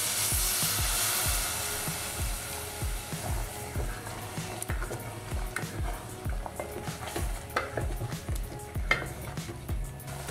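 Mutton curry masala cooking in a pan as hot water is added, with steady sizzling and bubbling plus repeated low stirring thumps and spoon scrapes against the pot, close and continuous without talk.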